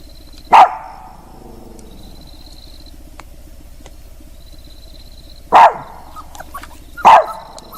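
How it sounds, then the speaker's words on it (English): At a dark campsite, dogs give three sharp, loud barks, one early and two close together near the end, separated by long quiet stretches of low hum. "Both dogs jumped up and barked into the darkness, not playful or confused, but alert and on edge."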